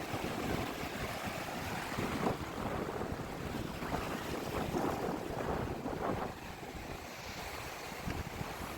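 Sea waves at Karde beach on the Konkan coast, a continuous rushing surf with wind buffeting the microphone, swelling in the middle and then settling to a steadier wash.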